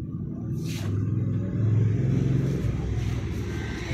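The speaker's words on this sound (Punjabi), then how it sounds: "ਟਰੈਕਟਰ ਆਇਆ ਆਪਣੇ ਕੋਲ ਤਿਆਰ ਹੋਣ ਵਾਸਤੇ" A diesel tractor, a modified 90 HP DI model with a new pump, rumbles in and arrives nearby, its engine swelling from a low idle to a steadier, louder throb before easing slightly.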